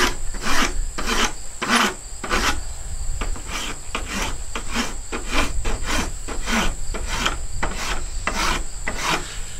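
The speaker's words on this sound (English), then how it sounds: "I'm using the smoother side, or the medium grit side, I guess, of the file." A medium-grit file rasps along a wooden ax handle in steady, rhythmic strokes, about a dozen close, loud scraping passes with no talking.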